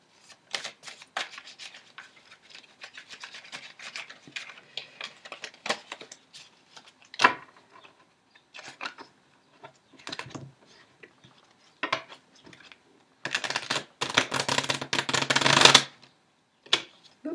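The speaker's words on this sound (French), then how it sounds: "je mélange, je prends un petit peu de temps pour mélanger" Tarot cards shuffled by hand in a quiet room, a run of soft riffling and rubbing bursts that grows denser and louder toward the end, with no talk.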